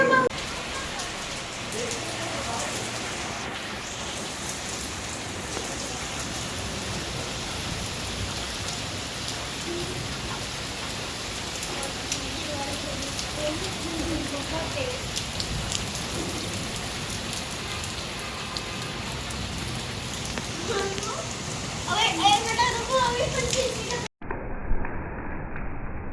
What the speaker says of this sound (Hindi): क्योंकि काफ़ी तेज़ बारिश हो रही थी